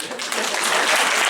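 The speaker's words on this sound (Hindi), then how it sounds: "इनके लिए तालियां होनी चाहिए" Dense audience applause from a crowd at a motivational talk, steady and loud throughout the short burst of clapping.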